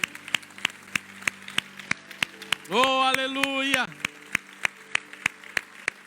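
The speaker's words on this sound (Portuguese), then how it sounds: "E a Ti louvamos e a Ti aplaudimos." Worshippers in a church congregation clap in a steady rhythm, sharp evenly spaced claps running throughout, while someone speaks and calls out in praise over them and a sustained sung or held tone rises briefly in the middle.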